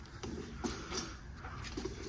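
Soft pigeon coos repeat a few times at low pitch over a steady background hiss, fairly close by, with no voices.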